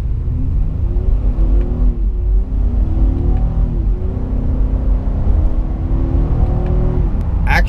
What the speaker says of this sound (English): I am on an on-ramp where you have to accelerate to freeway speeds almost instantly, so we're gonna test out how quick they shift.